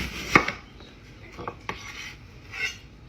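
A kitchen knife chops onion rings in half on a cutting board: a few sharp, separate knocks at an uneven pace, close by, with quiet scraping between them.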